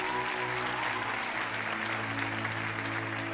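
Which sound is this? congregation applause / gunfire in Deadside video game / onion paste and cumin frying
congregation applause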